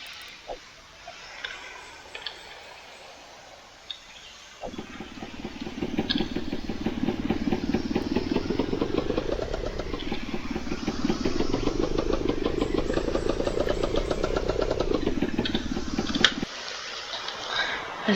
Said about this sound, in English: There's the engine power to get out,